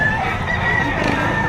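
Roosters and chickens at the Padre Garcia livestock auction market in Batangas, heard as loud, dense, continuous crowing and clucking from many birds close by, with crowd noise underneath.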